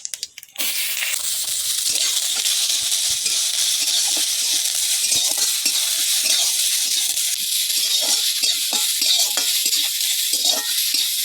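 Dried chili, panch phoron and chopped onion frying in a little oil in a kadai, a loud, dense, continuous hiss and sizzle with faint crackles, close by.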